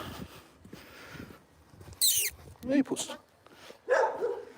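A dog gives a few sharp barks and yips outdoors, spaced out among stretches of man's speech, with quieter background noise between.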